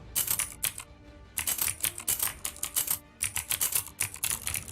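Bursts of fast typing on a computer keyboard, with rapid crisp key clicks in several runs separated by short pauses, close and clear.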